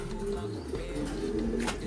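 Soft, low coos of a racing pigeon roll along close by, a couple of throaty calls with light background noise and no talking.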